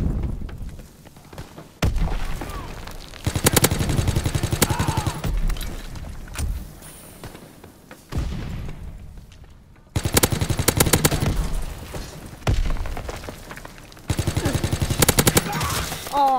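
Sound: stun grenade and gunfire in a PS4 shooter video game

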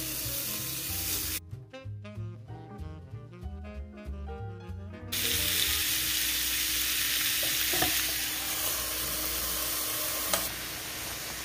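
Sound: thick bacon sizzling on a George Foreman grill

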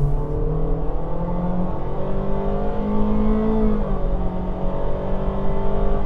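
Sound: 2025 Honda HR-V Sport accelerating in normal mode

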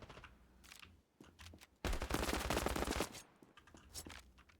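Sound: gun stuck firing continuously in Standoff 2 video game

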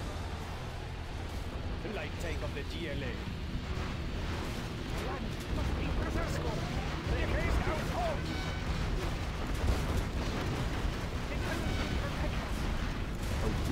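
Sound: missile explosions in a video game

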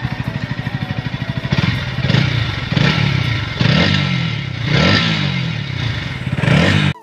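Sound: Bajaj Pulsar NS 160 motorcycle engine after servicing

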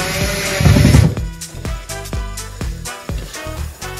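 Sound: driving short screws into a bathroom fitting

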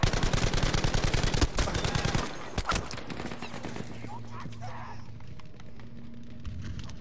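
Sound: gunfire in the video game Battlefield V

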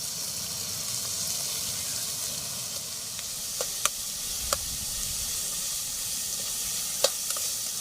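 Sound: onions frying in oil

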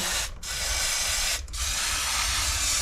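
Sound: aerosol cleaning spray on trailer wheel bearing

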